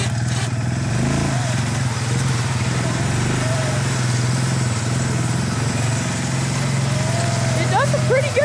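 A cold ATV engine running on choke while hooked to a plow, a steady low motorized drone idling throughout with speech heard over it.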